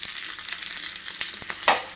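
Red chili and curry leaves crackle and sizzle in hot oil just after mustard seeds have popped, a steady dense hiss with a louder burst of spitting near the end.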